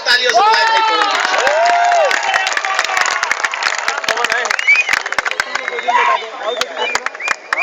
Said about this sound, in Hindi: मैं चाहता हूं पूरा सदन एक बार जोरदार तालियों से बुलाए भाई पवन